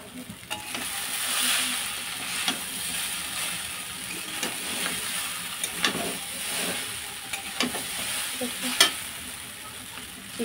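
Chicken chow mein with all its ingredients being stirred in a pan, a steady low sizzle with repeated scraping and tossing clicks from a utensil, fairly close and moderately loud.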